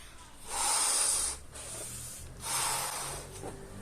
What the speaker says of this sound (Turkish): Tuncay bu balonda şişirse 5 liraya sayacağız